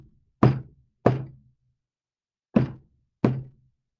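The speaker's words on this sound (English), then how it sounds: "She tapped 3 times on the door, waited a moment, and then tapped 2 more times." Knuckles rap a secret signal on a front door, three close knocks, a pause, then two more, each sharp and hollow with a short low thud, alone in silence.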